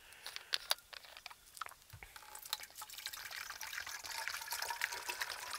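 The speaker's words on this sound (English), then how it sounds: "going to fill up my new Super Sparrow bottle" Water runs into a 1.5-litre Super Sparrow bottle during car camping, with a few drips and splashes at first, then a steady, building gurgle as the bottle fills, close and alone.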